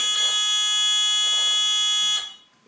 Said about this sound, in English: the buzzer only goes when it detects a color.